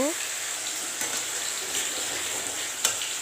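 Onion paste frying in a pan for a Bengali katla fish kalia, a steady close sizzle with faint scraping of stirring and one brief clink near the end.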